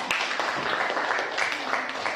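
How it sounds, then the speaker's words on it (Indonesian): A classroom gives a presenting group a round of applause, steady scattered clapping from many hands at a moderate, slightly distant level for about two seconds. "beri tepuk tangan untuk kelompok keempat"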